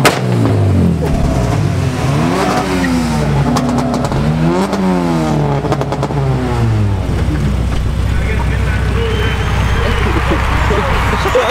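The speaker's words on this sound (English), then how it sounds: "the exhaust competition's up right now, so we're about to check that out" At an exhaust competition, a car's exhaust revs loudly in repeated rising and falling sweeps, then settles into a rumbling idle, close by with people talking.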